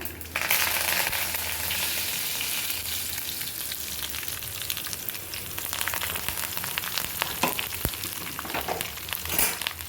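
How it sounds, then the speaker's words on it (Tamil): Dried red chillies and curry leaves sauté in hot oil with a steady, loud crackling sizzle throughout, punctuated by sharper pops and occasional stirring scrapes. "ஒரு 5-6 காஞ்ச மிளகாவும் குந்தி வச்சுருக்கேன் ஃப்ரெண்ட்ஸ். அதையும் போட்டு நல்லா வதக்கிக்கிடுவோம்."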